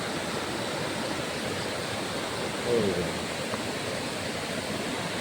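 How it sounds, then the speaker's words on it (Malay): River water flowing steadily along a path leading down to the riverbank, a constant broadband rush that stays even and close throughout with no break. "Sungguh menikmati suasana air sungai yang mengalir"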